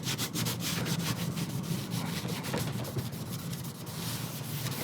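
Steady, close rubbing of sandpaper over carved elm wood during repair of a Chinese lohan figure, continuous and fairly loud with no talking.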